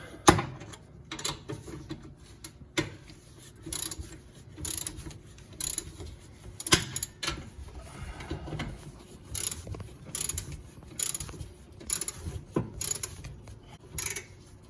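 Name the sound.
torque wrench tightening bolts on a lift kit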